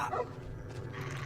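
Several dogs in the Fallout New Vegas video game bark and yip in a rough, continuous jumble, loud and close amid game noise.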